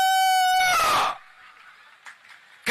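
A voice imitates a rooster crowing, a loud rising and falling harmonic call for about a second at an outdoor political event in Jharkhand, followed by faint crowd noise.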